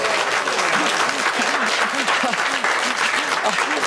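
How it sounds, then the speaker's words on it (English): A crowd at a BBC Springwatch nature show gives half-hearted applause, a steady patter of clapping with someone talking over it. "I think we can call that applause reluctant"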